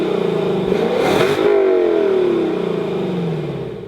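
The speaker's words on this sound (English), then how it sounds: "we show you a 5-liter V8 naturally aspirated engine with around 470 horsepower" A Lexus LC 500 with a naturally aspirated 5.0-litre V8 of about 470 horsepower revs loudly and close by, rising to a sharp peak and then falling away in a long smooth engine note with no talking.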